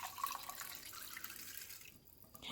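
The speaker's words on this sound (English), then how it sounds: "Then I'm going to pour it into my jar." Pickling liquid poured into a jar of jalapeños, a quiet trickling, splashing pour that fades out toward the end, with no voices.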